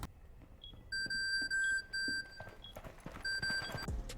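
A small beeper alarm gadget in Rainbow Six Siege sounds in repeated loud electronic beep bursts with short gaps, over game ambience and scattered footsteps.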